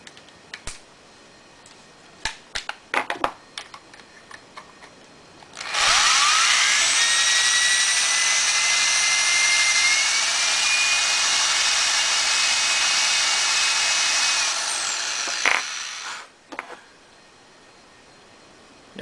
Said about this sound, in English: When you're running the drill, you want to bring the cutter in and out like this